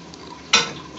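Tomato chutney is mixed by hand in a pot, with a single brief wet squelch and scrape standing out over a quiet background, and no voices.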